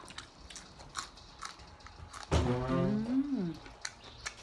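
Someone bites and chews spicy instant noodle salad with pork sausage up close, soft crunching clicks followed by a brief voiced sound midway.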